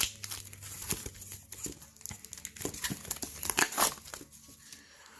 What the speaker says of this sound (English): Packing tape. It's not my favorite thing to deal with